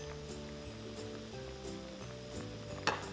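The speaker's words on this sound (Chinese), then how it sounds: "用大火呢再给它煮大概三分钟的时间，直到这些食材呢都变软" Hot and sour soup with shredded bamboo shoots and ginger strips boils hard over high heat, a steady low bubbling and sizzle that runs the whole time beneath soft background music, with one brief sharper crackle near the end.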